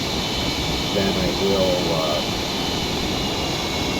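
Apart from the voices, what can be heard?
F18 jet engine spooling down, video game MSFS 2020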